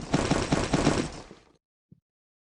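Rapid bursts of automatic gunfire in a video game rattle for about a second and a half, then cut off, leaving near silence and one faint thud.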